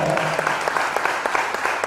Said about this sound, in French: Si oui, applaudissez très fort. Sinon, applaudissez aussi très fort.